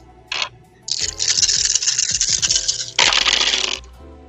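Dice rattle and tumble across a table during a Vampire: The Masquerade tabletop role-playing session, in three loud scattered bursts: a brief first roll, then a longer clattering one and a final shorter burst.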